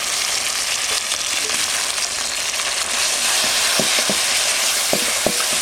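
Ginger-garlic paste hits hot oil with fried onion and tomato for a village-style fish curry, giving a continuous loud sizzle broken by a few sharp clicks as a spoon stirs the pan.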